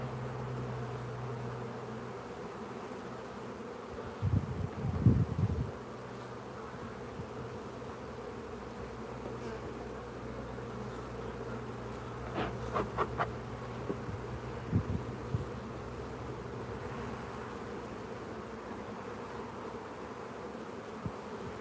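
Honeybees buzz steadily around an open hive during an inspection, a continuous droning hum with a few louder, closer passes and brief rustling handling noises, no talking.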